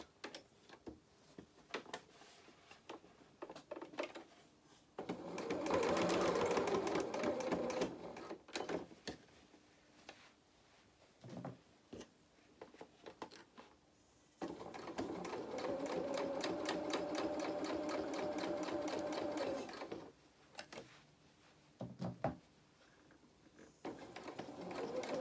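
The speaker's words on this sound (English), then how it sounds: "we're just going to stitch along here now with half a centimetre seam allowance" A domestic sewing machine stitches a fabric seam with half-centimetre allowance on a soft-toy donkey head, running in two steady whirring, ticking bursts of several seconds, with short starts and stops and quiet handling noises between.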